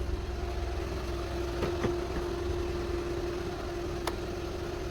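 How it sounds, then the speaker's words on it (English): A Volkswagen-group car engine idles steadily and smoothly in a quiet workshop with no one inside, holding a constant low hum with a faint tonal whine, and a couple of light clicks come through in the background. "So as you can hear, nice healthy running engine, reverse lights are on."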